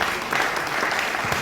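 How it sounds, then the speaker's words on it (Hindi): Audience applause at the inauguration of a new municipal heritage public school building in Delhi, a steady, dense clapping that fills the whole moment without a break. "दोनों पर जोरदार ताली बजाई जाए।"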